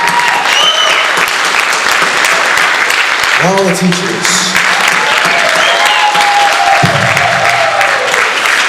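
An audience at a jazz camp concert applauds with sustained crowd clapping, while someone speaks into a microphone over it and brief musical tones sound.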